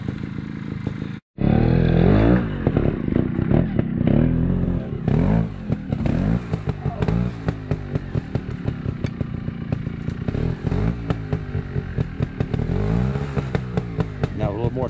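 A Montesa 300RR trials motorcycle rides over a log, its engine revving and blipping in bursts with clattering thumps, near and loud, while people talk nearby.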